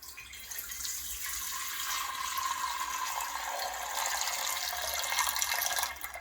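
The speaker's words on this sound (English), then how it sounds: "I just rinse my pot thoroughly." Tap water runs into a cooking pot as it is rinsed, a steady bright rushing stream that swells a little and churns before cutting off near the end, no voices.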